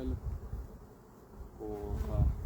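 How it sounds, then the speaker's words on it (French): Honeybees emerging from the hive make a low, fairly quiet buzzing hum close by, while a person speaks briefly near the start and again toward the end. "Ici, c'est des abeilles en train de maturer, qui commencent à sortir"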